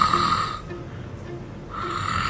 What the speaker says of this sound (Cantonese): 打鼻鼾